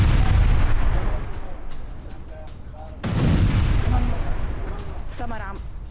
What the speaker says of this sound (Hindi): इजरायल ने बैरूत के चप्पे चप्पे पर बरसाए हैं बम